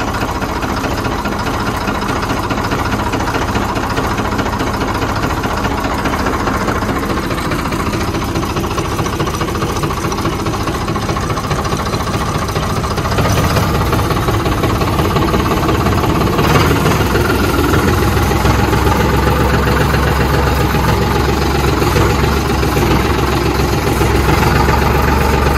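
A diesel tractor engine idles loudly and close for a long stretch, a continuous rough knocking rumble that grows slightly heavier partway through, during harvest work.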